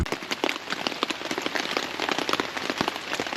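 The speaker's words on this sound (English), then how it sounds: "It started raining cats and dogs as soon as I pulled up to my site." Heavy rain pelting a nearby surface at an October campsite in the Columbia River Gorge, a dense, constant patter with sharp individual drops cracking through.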